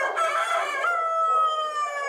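Roosters and hens held at Anchorage Animal Care and Control: a rooster's long, clear crow rings out close and loud, with a brief rougher clucking note at the start and no talking.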